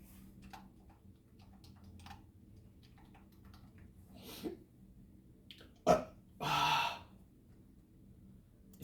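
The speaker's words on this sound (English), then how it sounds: "It was about to be a hiccup, but I treat it as a burp." A single abrupt burp that starts like a hiccup, heard close and loud against a quiet room, with a short breathy exhale following it and some faint breathing before it.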